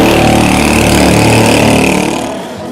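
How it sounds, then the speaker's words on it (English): A loud motorcycle engine roars steadily close by as it passes on a road in Costa Rica, then the drone fades off near the end. "You'll notice the motorcycles that come by are quite loud."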